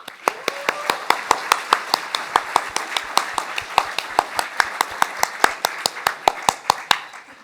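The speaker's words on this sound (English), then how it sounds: "please, a big, enormous, heartfelt round of applause for our upcoming Ignite" Steady rhythmic clapping from an audience at an Ignite talk event, a run of evenly spaced sharp claps repeating for several seconds at moderate level, with a faint murmur beneath.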